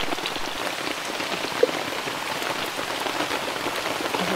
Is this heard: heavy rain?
yes